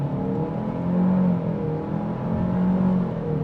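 A 2025 Chevy Malibu LT Redline Edition pulling away from a stop under throttle, a turbocharged engine's steady droning hum rising and swelling in pitch as it gains speed, heard from inside the cabin.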